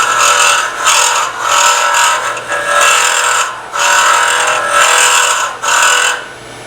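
Wood lathe turning a miniature while a hand tool cuts the spinning wood, heard as a loud, steady rasping scrape in repeated passes of roughly a second each, with short gaps between passes and a low motor hum underneath.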